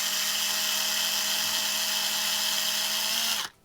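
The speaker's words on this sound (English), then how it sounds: "Take off the head of that rivet with the drill," A power drill whines steadily, grinding the head off a rivet on a Lesney Matchbox #71 Ford Heavy Wreck Truck toy, then stops abruptly near the end.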